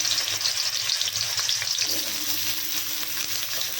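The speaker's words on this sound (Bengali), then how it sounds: "এবার ওই একটা আলু কেটে রেখেছিলাম, ওটাকে ভেজে নিচ্ছি।" Cut potato frying in hot oil in a wok, a steady close sizzle and crackle running throughout with faint stirring scrapes.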